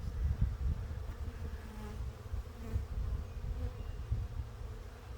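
A honeybee swarm gathers at a swarm trap, filling the air with a dense, continuous buzz. The sound is close and steady with no voices.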